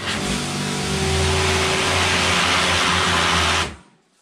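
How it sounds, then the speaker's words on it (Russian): A STIHL RE 170 electric pressure washer runs nearby, giving a loud, steady motor whine and hum that holds evenly for several seconds, then cuts off abruptly and fades to silence. "электричество есть, мойку можно включать"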